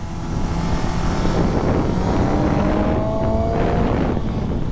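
Suzuki GSX-750S sports bike ridden hard through bends, a loud continuous engine roar with rising and falling rev tones and heavy wind rush, close and steady throughout.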